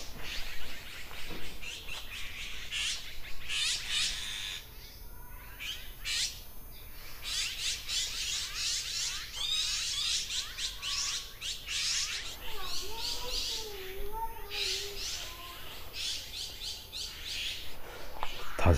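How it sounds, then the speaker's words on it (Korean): Birds sing and chirp in a residential alley lined with multi-family villas, with repeated bright calls and warbling phrases close by over a steady outdoor background. "잠깐 새소리 좀 듣고 갈게요."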